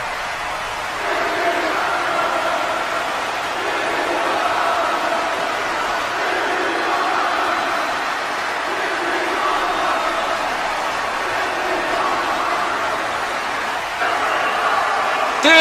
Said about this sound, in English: Wow, the crowd has got going absolutely insane!